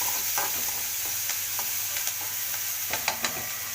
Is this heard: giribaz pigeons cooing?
no